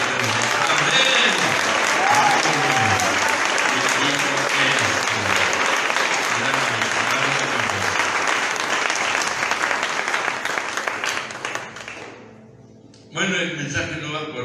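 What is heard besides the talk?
congregation applause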